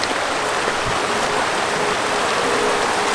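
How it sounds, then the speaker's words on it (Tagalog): A river flows in a steady, broadband rush near a camping ground at a country club. The water sounds close and continuous with no pauses, and no voices are heard over it. "Ganda ng ilog nila."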